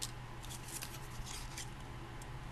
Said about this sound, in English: Next step is to take scissors